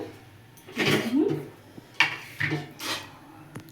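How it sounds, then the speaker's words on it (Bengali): A metal kadai is set down on a stove with a couple of clanks and scrapes, followed by a few more short knocks, fairly close and quiet. "আমি এখন কড়াই বসাবো"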